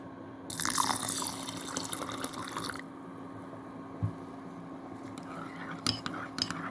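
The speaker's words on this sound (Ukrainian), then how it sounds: "виливаю воду і заливаю ще раз." Water is poured out of a pot of rinsed millet in a bright rushing stream for a couple of seconds, followed by quieter dripping and a few clinks of the pot.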